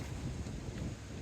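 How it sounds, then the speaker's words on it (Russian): Strong north wind buffets the microphone on open water during paddling against the wind and waves, producing a steady, low, rushing roar throughout. "Нормально сегодня ветер мутузит."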